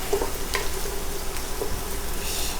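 Garlic sizzling and being stirred in a hot pan for a seafood and sausage Alfredo, a steady close frying hiss with faint stirring scrapes throughout and no talk.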